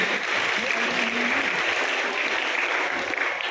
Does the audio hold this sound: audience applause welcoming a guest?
yes